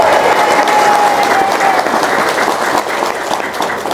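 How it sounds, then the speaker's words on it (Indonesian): A large indoor audience breaks into loud, sustained applause, with dense clapping at steady volume through the whole stretch and a faint whistle early on. "Tepuk tangan yang paling kencang."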